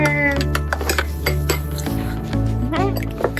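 Ice clinks against a glass as a vermouth spritz of Carpano Antica vermouth and seltzer is stirred, with a few quick chinks and rattles over steady background music.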